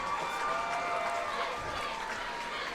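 Spectators in the stands at a high school football game between Fort Gibson and Tecumseh cheer and applaud in a broad, steady wash of crowd noise, with a voice talking over it.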